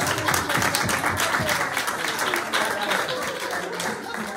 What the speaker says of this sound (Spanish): un aplauso para Coincidencia